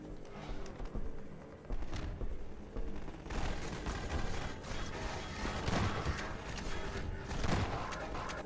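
Enemy gunfire in the video game Half-Life 2 comes as dense, continuous bursts of rapid shots and thuds, loud and sustained throughout.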